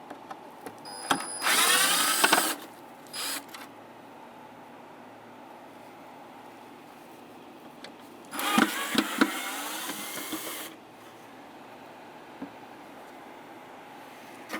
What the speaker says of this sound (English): On the bottom, we have two Phillips screws. You can remove those.